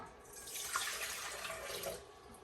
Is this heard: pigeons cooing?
no